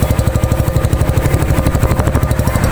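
A Raider 150 motorcycle engine with a 68mm block and 28mm carb runs close and loud, holding a fast, even, throbbing rhythm throughout with no talk over it.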